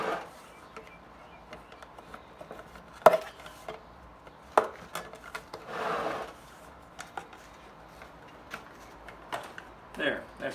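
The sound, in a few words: prying open the lid of a joint compound bucket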